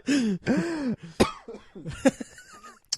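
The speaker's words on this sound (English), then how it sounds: "Let me just cough a little more here." A few harsh, throaty coughs in quick succession, close and loud, followed by raspy throat-clearing noises with no talking.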